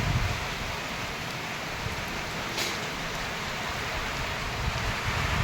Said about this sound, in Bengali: দেখো কি পরিমাণ বৃষ্টি হচ্ছে।